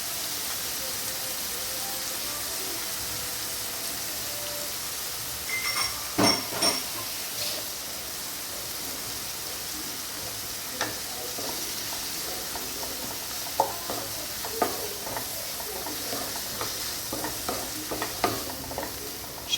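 Ginger garlic paste fries with tomatoes in a pan, a steady close sizzle broken by stirring scrapes and a few clinks of a spoon against metal, with no voices.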